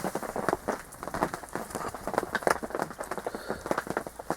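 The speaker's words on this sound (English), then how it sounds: "And it's some serious heavy rain at times as well." Heavy rain pelts down at a lake, a dense, steady patter of drops striking nearby surfaces, loud and continuous throughout with no voices.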